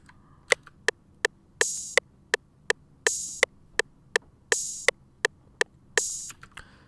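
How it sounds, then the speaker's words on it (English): An FL Studio drum loop plays in a steady rhythm, with short tight clicks between recurring open hi-hat hits that hiss and ring out briefly before decaying, all dry and up front over a faint low hum. "Finally, this is an open hat, so it sounds like this."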